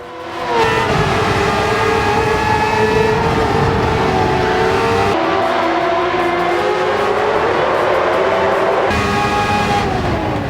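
A 1990s Formula 1 car racing in Gran Turismo 7 at Yas Marina, its high-pitched engine wailing loudly and continuously, pitch climbing through gears with brief drops at shifts and no talk over it.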